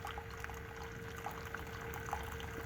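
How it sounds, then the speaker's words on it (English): A Chulux single-serve K-cup coffee maker dispensing brewed coffee into a cup, a steady, quiet stream of liquid trickling for a few seconds with no talking. "Okay, coffee's coming out."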